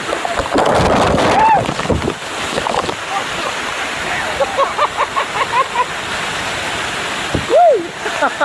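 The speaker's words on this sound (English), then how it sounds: "There's a small waterfall," A small waterfall in Canaima, Venezuela, gives a steady rushing wash of water, loud and close, mixed with wind buffeting and some background talk.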